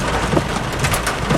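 Thunderstorm in Florida with steady heavy rain and gusty wind, a dense continuous wash of noise with occasional stronger gusts and brief low rumbles, close and loud throughout, with no voices.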